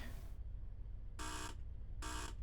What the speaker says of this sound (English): I do like the buzzer sound though.